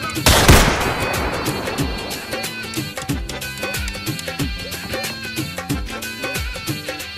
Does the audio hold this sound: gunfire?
yes